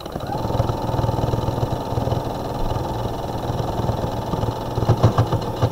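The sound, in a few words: sewing machine needle stitching through thick fabric layers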